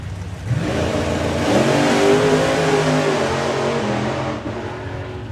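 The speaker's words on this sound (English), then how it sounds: "we can hear him pedaling the car out there" A drag racing car at Santa Pod Raceway during the FIA European Finals accelerates down the strip, its engine roar swelling quickly and holding a strained, rising note for several seconds before easing off, heard from a moderate distance.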